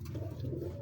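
Big breed pigeons kept by a fancier coo softly nearby, a brief low rolling call lasting under a second with no talking over it.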